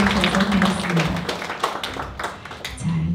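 An audience at a book-launch event applauds the poet, a burst of many hands clapping at close range with a voice talking over it.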